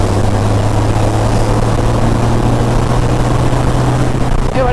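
Racing truck engine on a race track, a loud, steady droning roar with a constant low tone held throughout, close and alone without talk.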